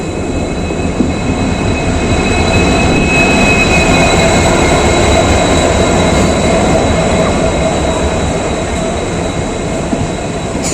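A train rumbles along loudly and steadily, close by, with a constant rolling roar and faint high whine throughout.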